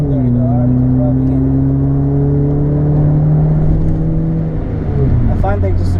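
A car fitted with a big exhaust drives along with a steady, loud low engine drone that shifts pitch slightly as it changes speed, heard from close up inside the vehicle.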